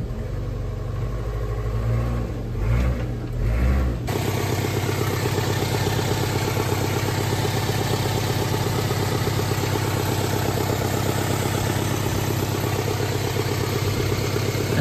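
A Mira's engine runs steadily as the car is driven up onto ramps while coolant leaks from it. The motor hums close and continuously, with a brief rougher shift in the first few seconds and no one speaking.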